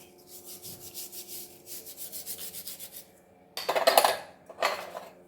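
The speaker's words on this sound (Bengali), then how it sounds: "এই সরুগুলো ঘষে নেব" A conch shell bangle being cleaned by hand, with quick rhythmic scraping strokes followed by two louder, harsher bursts of rubbing near the end.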